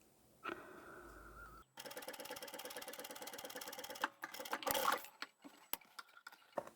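A sewing machine runs a steady rapid stitch along a leather and vinyl pouch seam for a few seconds, then stops, followed by scattered handling clicks and rustles nearby.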